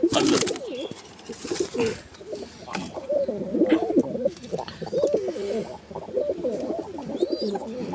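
Pigeons coo in soft, repeated throaty calls, several birds overlapping close by, with a few brief rustles and chirps in between.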